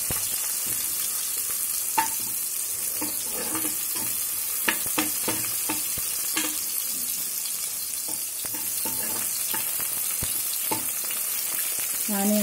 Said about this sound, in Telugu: ఆనియన్స్ వేగుతున్నాయి కదా